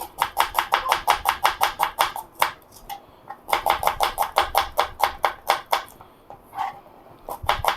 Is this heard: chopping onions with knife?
yes